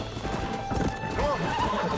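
A horse in Red Dead Redemption whinnies and clip-clops along at a trot, hoofbeats close and steady with a rising neigh over them, while a voice talks underneath.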